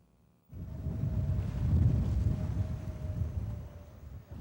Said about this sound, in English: The wind's blowing from the east, not the best for fishing